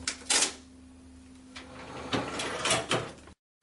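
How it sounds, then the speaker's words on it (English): A Samfors ER260 cash register opens its drawer and prints a receipt, several short clunking and rattling bursts spaced across a few seconds over a steady low hum, close by with no talking. "the drawer will open for you to count your money, and out of the receipt printer will come all your daily sales totals"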